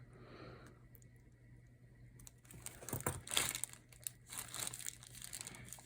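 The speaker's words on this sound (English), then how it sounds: "what I'm gonna do is cut off the tip of my little Ziploc baggie" A small plastic Ziploc bag is handled and its tip snipped off, giving faint close crinkling and rustling that grows busier halfway through, over a low steady hum.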